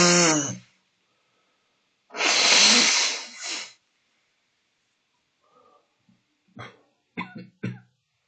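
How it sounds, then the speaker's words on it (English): A person coughs alone in a quiet room: a short voiced burst, then a longer harsh cough, followed by faint clicks and small throat noises. "thinking that I have coughed enough in the last week"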